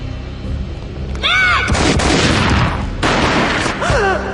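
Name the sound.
gunshot in the video game Max Payne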